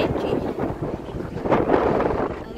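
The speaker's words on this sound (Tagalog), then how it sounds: "Ang lamig dito, sobrang hangin" Strong, cold wind buffets a microphone outdoors in Central, Hong Kong, a continuous broadband roar that swells in gusts, loudest toward the middle, with no talk over it.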